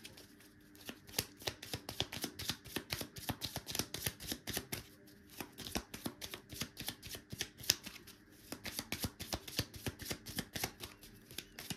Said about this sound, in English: I'm just getting some more cards